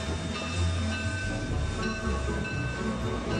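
A rumbling train sound effect, steady low chugging and rattling with a continuous mechanical roar, fairly loud and without voices.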